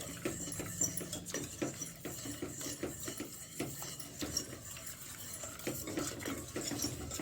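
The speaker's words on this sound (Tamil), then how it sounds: "இந்த மாதிரி விஸ்கில் நல்லா கலக்கி விடுங்க" Whisk stirring a pasta batter or mixture in a bowl, faint continuous scraping and clinking strokes at low volume, close up and without speech.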